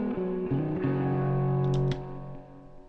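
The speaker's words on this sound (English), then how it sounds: "That is a very authentic model of the spring reverb in my combo" Amped Gemini guitar amp plugin modelling a vintage American combo's spring reverb, a distorted sustained chord wash that rings and decays with a splashy, metallic tail, loud and alone without any talking.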